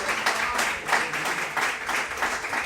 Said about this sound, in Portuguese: aplauda o Senhor com o seu melhor nesta hora